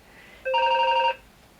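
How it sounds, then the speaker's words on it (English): A telephone rings indoors with one short electronic trill burst, loud and close, standing out against a quiet background. "the phone rings in the middle of me making a video"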